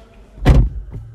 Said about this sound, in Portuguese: Um toque aqui na maçaneta, ó. Ela já trava o carro.